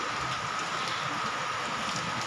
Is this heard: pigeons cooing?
no